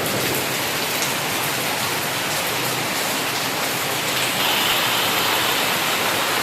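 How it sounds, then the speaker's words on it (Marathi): Heavy rain pours down in a dense, loud, unbroken roar, drumming hard on surfaces all around. "आता जोरदार पाऊस आला आहे किती पाऊस लागतो आहे बघा"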